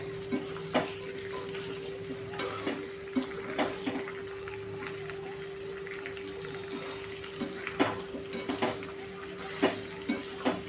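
Okra and potato being stirred in hot oil in a pan, a steady sizzle with repeated scraping and clinking of a spoon against the metal, close and alone with no talk.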